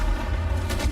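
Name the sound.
gunfire in the streets of Cairo, from video game Battlefield 6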